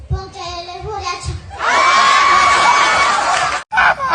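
Children clap and shout together, a sudden loud burst of applause with high-pitched cheering and a shrill squeal that follows softer chatter and cuts out briefly near the end.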